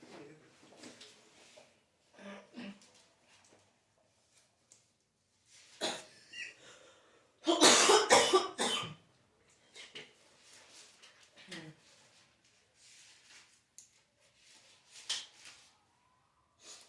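A person coughs several times, with one harsh burst of coughing louder than the rest, scattered among breathy pauses and quiet vocal sounds.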